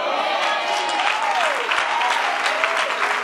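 A church congregation claps loudly and continuously during a sermon, dense uniform applause with faint voices mixed in.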